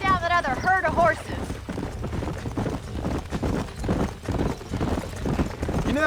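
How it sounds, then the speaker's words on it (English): Horse hooves clip-clop in a steady rhythm in the video game Red Dead Redemption, close and continuous beneath characters talking throughout. "Let's see if we can track down that other herd of horses."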